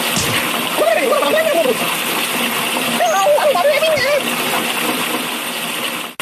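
Continuous loud water splashing and gushing pours over a ragdoll character in the mobile game Kick The Buddy, with the character's voice chattering over the steady spray.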